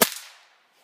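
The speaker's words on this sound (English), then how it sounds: "Next up, 22 quiet. Three rounds." A single CCI Quiet .22 round fired, giving one sharp, close crack like a cap gun, then a brief fading tail into silence.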